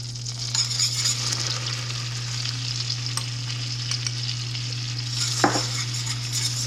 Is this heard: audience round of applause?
no